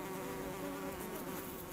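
Honeybees cluster around the queen at a beehive, a dense, continuous buzzing drone, close and steady throughout with no talk.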